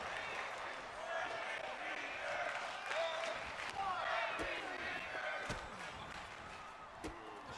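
Crowd at a professional wrestling match roars and murmurs continuously at moderate distance, with a few sharp slams or thuds from the ring breaking through and commentators talking over the noise.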